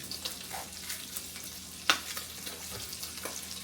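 Bacon fries in a pan for breakfast, with a constant close sizzle, soft crackles and a sharp clink of a utensil against the pan midway.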